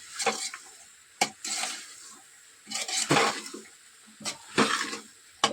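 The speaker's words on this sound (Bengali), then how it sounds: "সবটা আবার নাড়াচাড়া করে দেবো এরকম নাড়াচাড়া" Ghugni curry being stirred in a pan, with bursts of scraping and sizzling strokes at irregular intervals, fairly close, separated by quieter gaps and no talk.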